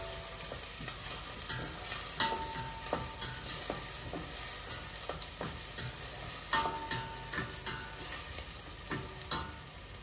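Crushed garlic cloves sizzle and fry in a pan for an Indian fish curry, with steady close frying hiss broken by repeated scraping and clacking stirs from a wooden utensil, and no talking.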